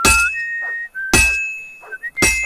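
A character in the video game Kingdom Come Deliverance 2 whistles steady, sustained notes, broken up by three sharp, bright, glassy clinks, loud and close.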